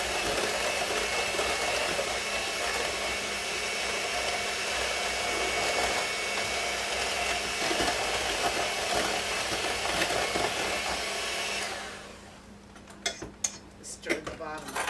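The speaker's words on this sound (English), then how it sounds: "And with the mixer, I'll blend it." An electric hand mixer whirs steadily and loudly while blending milk with pudding in a bowl, then cuts off near the end, leaving a few clinks and light knocks.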